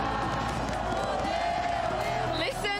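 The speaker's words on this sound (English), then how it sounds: "Listen to that crowd." A packed esports arena crowd roars continuously at a Valorant Champions Tour match in São Paulo, a loud sustained wall of cheering and shouting with a voice rising near the end.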